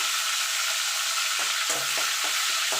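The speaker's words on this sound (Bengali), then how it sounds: "এবার ফোড়নটা একটুখানি ভাজা ভাজা করে নেব" Whole garam masala with split cardamom and a bay leaf fry in hot oil for a spinach and prawn dish, giving a dense, continuous sizzle with a few crackling pops, close and steady.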